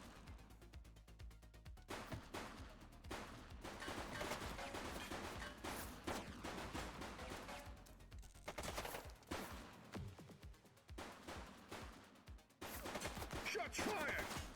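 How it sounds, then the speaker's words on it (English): Rapid, overlapping gunfire bursts in The Precinct police game, dense and loud through most of the stretch with brief lulls between volleys and a few sharp louder shots near the end. "Shots fired!"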